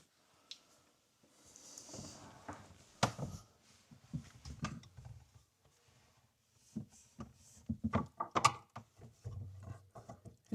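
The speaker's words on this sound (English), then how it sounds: "we're going to go after these two Phillips screws here with the screwdriver" Screwdriver loosening Phillips screws on a bathroom faucet, producing quiet scattered clicks, scrapes and metallic ticks in irregular bursts separated by near silence.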